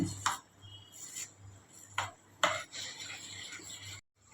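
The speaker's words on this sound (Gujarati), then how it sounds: "હવે આપણે તેને બરાબર હલાવીને મિક્સ કરી દઈએ" A spoon stirs malpua batter mixed with cardamom and black pepper powder in a bowl, giving several separate scraping clinks against the bowl over a low background hum, then a short silence at the end.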